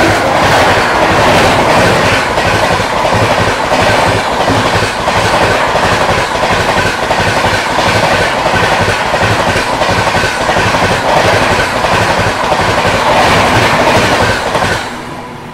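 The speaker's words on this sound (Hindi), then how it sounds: "पीछे से आती हुई रांची नई दिल्ली राजधानी एक्सप्रेस।" Ranchi–New Delhi Rajdhani Express passing at speed on Indian Railways, a loud, steady rush with rapid rhythmic wheel clatter over rail joints that carries on throughout and fades slightly at the end.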